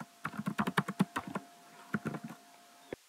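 Rapid keystrokes on a computer keyboard while writing code, a quick burst of clicky taps, a short pause, then a few more keys and a final single press, close and clear with no talk.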